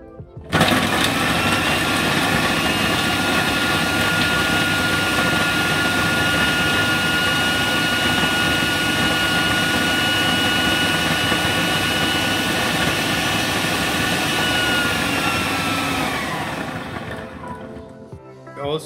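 A food processor whirs steadily, blending garlic with an egg white for a garlic sauce. The motor drone is loud and constant for most of the stretch, then winds down near the end.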